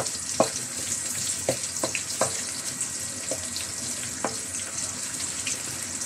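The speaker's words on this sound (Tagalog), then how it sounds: "Gisa-gisa natin ng konti." Pork for Bisayan-style pork humba sautéing in a pan makes a continuous moderate sizzle, broken by several sharp clicks and taps of a utensil scattered throughout.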